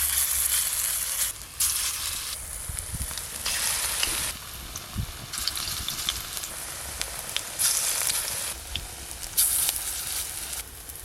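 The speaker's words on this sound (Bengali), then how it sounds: "তেল তো গরম হয়ে গেছে, এবার পোস্ত বড়াগুলো ভেজে নেব।" Poppy seed fritters fry in hot oil, making a steady, loud, close sizzle that keeps going throughout with small crackles and pops and no voices.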